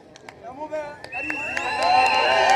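A crowd at a political rally in Gategi Market, Embu, breaks into cheering and applause that swells toward the end. Whistles and voices are mixed in, and an amplified speaker talks over the crowd.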